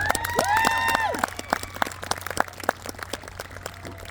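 Audience clapping and cheering for middle school jazz players at a Together Days event, scattered claps growing sparser over a few seconds, with a brief whistle or cheer near the start.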